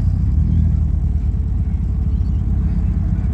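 Deep, steady rumbling engine note from a Jaguar car idling or cruising past at a vintage car rally in Adelaide, loud and close with a throbbing low-pitched drone.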